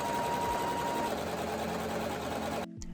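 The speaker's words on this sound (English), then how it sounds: "I'm gonna sew these together, but I'm gonna leave one little corner open so that I can flip it inside out" Lining fabric for a crocheted granny-square tote bag runs through a sewing machine, a close, continuous whirring motor hum that stops abruptly just before the end.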